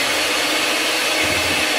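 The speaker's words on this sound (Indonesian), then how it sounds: "Nah, kita mixer lagi pelan-pelan dulu." An electric mixer runs slowly through pandan sponge cake batter, giving a steady, close whirring hum that holds without a break.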